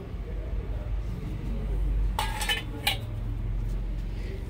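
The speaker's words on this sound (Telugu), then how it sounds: "చూడండి అన్ని ఇతడి గిన్నెలు అయితే చాలా బాగున్నాయి" Brass vessels clinking together in a shop of copper and brass items, two brief bright metallic clanks over a low background rumble, with faint talk nearby.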